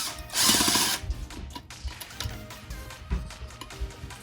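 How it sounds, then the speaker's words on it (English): A Phillips screwdriver backing a screw out of a gas water heater, a short loud scrape followed by quiet intermittent clicks and ticks of the tool turning, close by with no talking. "Take a Phillips screwdriver and remove this screw."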